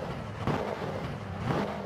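A Hummer H1 Alpha engine in the Forza Horizon racing game drones and revs continuously, a loud, rough, low growl with brief swells of throttle and no speech.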